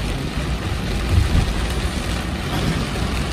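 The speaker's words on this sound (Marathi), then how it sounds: "भरपूर असा पाऊस चालू आहे." Heavy nighttime rain on the way to Somnath, a dense constant roar of falling water with a low rumble underneath, loud and unbroken.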